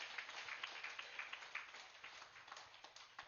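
Audience applause at a meditation gathering: steady, dense clapping from a crowd, fairly faint and even throughout, with a few sharper claps standing out.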